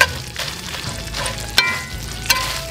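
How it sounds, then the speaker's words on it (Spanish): Chiles, onion and garlic frying in a pan for peanut sauce, stirred with a utensil: a steady close sizzle with soft scraping and a couple of brief clinks, no talking. "les vamos a dar unas meneaditas aquí a nuestros ingredientes para la salsa de cacahuate"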